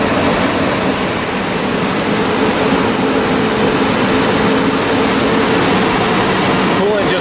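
A 1998 Chevy Tahoe 5.7L V8 held at a steady fast idle around 2,500 RPM, giving a loud, continuous broadband engine roar with no variation throughout.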